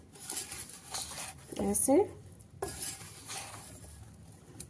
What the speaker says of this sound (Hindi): ये थोड़ा सा तेल डाल के अब किसी चम्मच की सहायता से, हाथ नहीं लगाएंगे, चम्मच की सहायता से इसको अच्छे से हम मिक्स कर देंगे